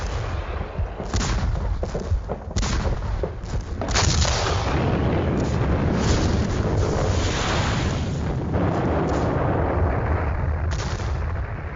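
Red Army artillery pounding the German front in 1944, during the Second World War: a dense, continuous barrage of heavy gun blasts and rolling booms that merge into one loud, sustained roar, with no voices.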